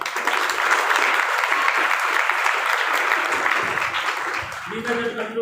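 A church congregation at a Sunday service applauds loudly, a dense continuous roar of clapping that holds steady before tapering off, with a voice emerging near the end.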